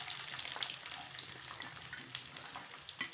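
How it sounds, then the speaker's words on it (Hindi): Nigella seeds, ginger and garlic frying in very hot oil, a steady close crackling sizzle with scattered sharper pops throughout, no talking. "तेल बहुत ही गर्म हो चुका है, आप भी देख सकते हैं तेल में कलौंजी छिटक रहा है।"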